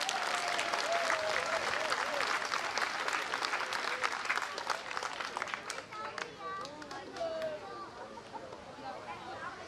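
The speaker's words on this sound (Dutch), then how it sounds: "daar gaan wij met z'n allen een heel groot applaus voor hoor" Crowd applause at a Dutch village gathering, dense clapping with individual sharp claps standing out, mixed with chatter, cheers and voices, gradually thinning toward the end.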